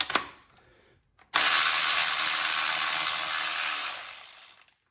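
A cordless ratchet with a 12mm socket strains against a stuck bolt: a brief click, a pause, then a loud sustained motor whine lasting a few seconds before fading out, heard up close.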